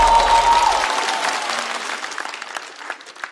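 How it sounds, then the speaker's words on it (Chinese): A stand-up comedy audience in a competition show claps for an incoming comic. Dense applause starts loud under a fading music sting, then thins out and tapers off with scattered claps. "掌声欢迎孙书恒"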